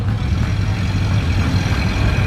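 A green 1931 Ford Model A with black trim and whitewall tires runs at the start of a hill climb, a steady low engine rumble heard up close without clear acceleration.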